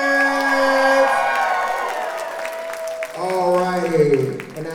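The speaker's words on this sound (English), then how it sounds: "And one more big round of applause for Shrimp" Crowd applause and cheering at a dance battle for a contestant, a steady roar of clapping and voices that swells again near the end, with whoops and a voice talking over it.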